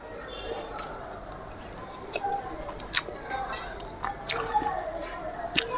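Close, wet squishing and sticky chewing of soft kuzhi paniyaram studded with cashews, raisins and tutti frutti, with irregular moist bites and smacks at a steady low level through the whole stretch.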